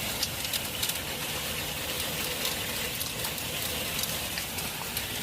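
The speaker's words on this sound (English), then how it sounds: "Look at how much rain is being dumped there, too." Heavy rain pours down during a severe storm, a dense, steady hiss of water drumming on surfaces that holds at a constant loud level throughout, with no voices.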